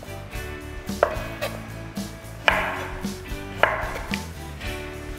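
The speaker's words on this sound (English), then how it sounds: "And these are not pitted, so I'm gonna have to slice them out of the pit like this." Knife slicing unpitted Cerignola green olives off the pit on a cutting board, a series of close, crisp chopping taps at an uneven rhythm, with no talking.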